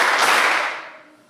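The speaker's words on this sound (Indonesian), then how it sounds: "tepuk tangan 3 kali" A group in a classroom-style session claps together on instruction, a burst of many hands that quickly fades into a short decaying tail; separate claps are not distinguishable.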